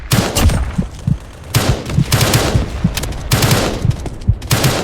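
Rapid bursts of gunfire in the Roblox shooter Strike: Warfare crack out in loud, repeated volleys, several sharp shots clustered in quick sequences with short gaps between them.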